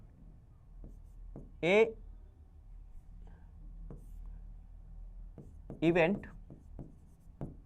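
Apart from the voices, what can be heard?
pen writing on paper during a maths solution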